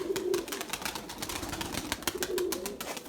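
Purebred Erzurum white breeding pigeons cooing in a loft, soft repeated throaty coos rising and falling close by, fairly quiet, with scattered wing and shuffling noises around them.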